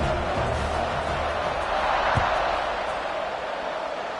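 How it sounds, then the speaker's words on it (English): Stadium crowd at a Nebraska vs Buffalo college football game buzzing after a score, just before the kickoff: a steady, dense roar of many voices with one brief thump partway through. "this crowd is buzzing after that last score"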